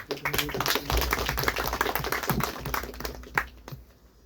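Audience clapping at a university diplomatic dialogue event, a burst of many hands applauding in a hall, fairly dense at first and then tapering off, with some voices underneath.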